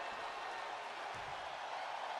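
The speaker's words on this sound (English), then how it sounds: "this crowd is on their feet in full appreciation" Broad, steady applause and cheering from an arena crowd on its feet in the WWE 2K20 wrestling game, filling the whole moment at a moderate level without voices.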